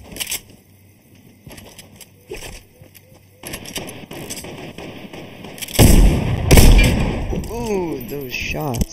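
Gunshots in a live-streamed video game, scattered sharp shots building to a loud burst of blasts near the end, mixed with game sounds and some speech.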